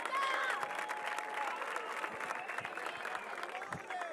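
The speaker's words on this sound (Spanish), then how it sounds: "Aplauso grande para estos cuatro." A crowd at a freestyle rap battle tournament applauds and cheers four contestants, a sustained wash of clapping with scattered shouts and whistles heard from some distance.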